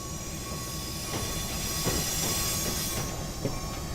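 Amtrak and California Zephyr passenger cars in the Railworks train simulator roll along the track, with a thin, high wheel squeal over a steady rumble, a hiss and faint rhythmic clacks from the wheels.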